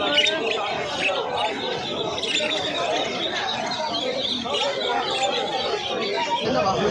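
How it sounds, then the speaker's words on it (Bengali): Budgerigars chirp and squawk in a dense, continuous chatter at a pigeon market in Savaipur, close and busy, with crowd babble and voices running underneath throughout. "বদ্রি পাখি কিছু দেখাচ্ছি আপনাদের ভিডিওর মাধ্যমে"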